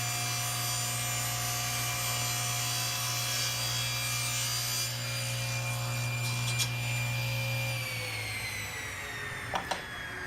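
Hand saw cutting exotic wood to trim a part for a homemade bench vise: steady back-and-forth rasping strokes, close, over a constant electrical hum, with a few knocks near the end.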